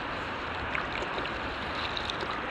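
River water rushes steadily at a bend upstream of Piketon, heard as a soft, continuous broadband hiss with faint splashes and no voices.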